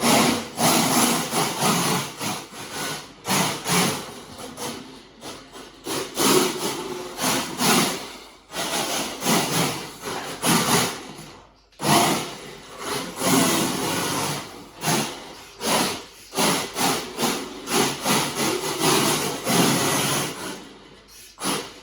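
A 4WD FTX Banzai RC drift car whines and scrapes across a living room floor in bursts of throttle, with short pauses between slides, close and steady throughout.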